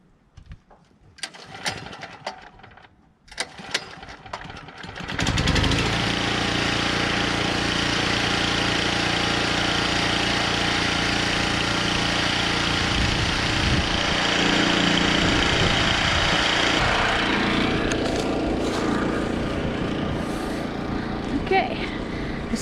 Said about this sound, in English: So I'm going to go ahead and start up the generator and plug in the sump pump now.